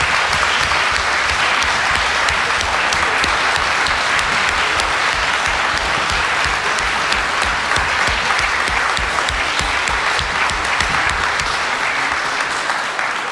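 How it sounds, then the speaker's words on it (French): Sustained, dense audience applause fills a hall after a conference closing speech, steady loud clapping from many hands throughout without pause. "C'est Francine Boll que je vous demanderai d'applaudir."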